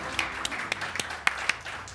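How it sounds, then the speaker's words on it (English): Scattered applause from a small audience at a university challenge grand finale, a light, thin patter of individual claps, faint and somewhat distant, lasting a couple of seconds. "So give a round of applause to them already."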